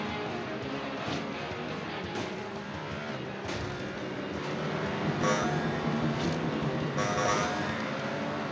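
Street racing car driving in pursuit, heard as a steady loud engine and road roar that swells slightly toward the end.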